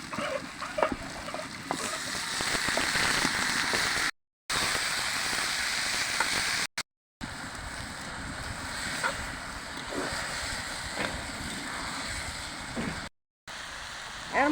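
Banana stem frying with fried potatoes in a pan, a steady broadband hiss of frying that runs continuously, broken by several brief dropouts, with occasional faint clicks and no talk.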